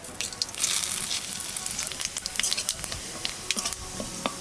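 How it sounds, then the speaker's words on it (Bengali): Cumin seeds and bay leaves sizzle close up in hot oil left from frying fish, a crackling hiss with sharp little pops and spatters scattered throughout. Nobody speaks. "মাছ ভাজা তেলের মধ্যে দিয়ে দেবো জিরে আর তেজপাতা"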